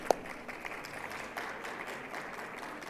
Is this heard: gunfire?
no